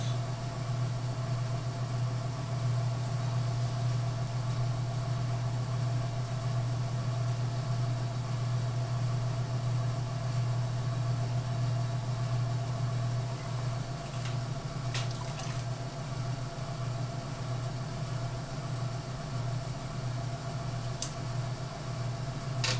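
An electric potter's wheel motor hums steadily and continuously throughout, a low drone with a faint wet rubbing of clay on top and a couple of brief clicks late on; no voices.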